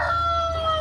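An Aseel (Indian) rooster crows in one short, loud, sustained call that is clipped mid-crow, with no other sounds around it.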